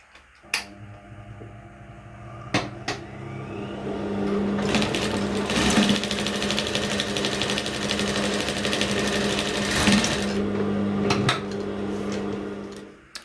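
Sewing machine running steadily along a straight seam with a 3 cm allowance, a continuous close whirring hum of several seconds with brief start and stop clicks at either end, and no talking.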